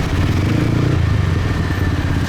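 A motorbike engine on a busy Saigon street in District 7 rumbles loudly and close, its throbbing putter steady as traffic clatters around it.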